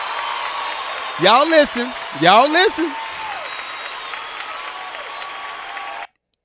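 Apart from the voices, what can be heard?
clapping applause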